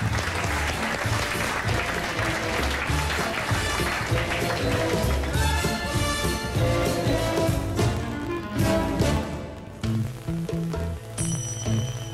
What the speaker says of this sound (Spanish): Y le damos un aplauso al ballet de Hugo Urrutia.